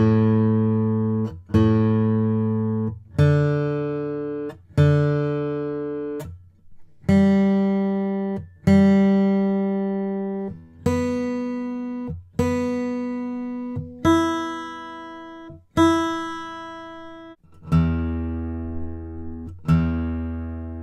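Acoustic guitar fitted with D'Addario XS phosphor bronze strings, played as a series of about eleven separate strums and chords, each ringing out and decaying before the next, close and clear with no talk.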